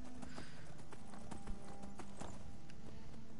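Horse hooves clip-clopping in Skyrim, a steady rapid patter of hoofbeats as the mount travels, moderately loud over a dense ambient game bed, no talk.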